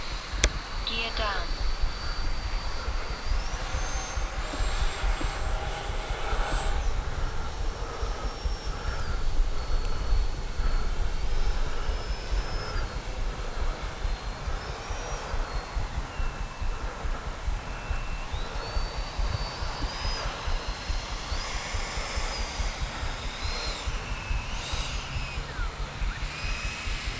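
An FMS Rafale 80mm electric ducted-fan RC jet whines steadily with shifting high-pitched tones as it flies passes and comes in to land in the evening, a continuous close, loud turbine-like hiss throughout.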